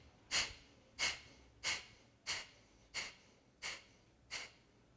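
Seven sharp, evenly spaced sniffs out through the nose during yoga breathing practice, each a short breathy burst, close and quiet in an otherwise still room.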